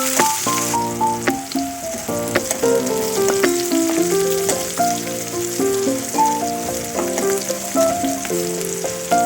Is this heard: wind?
no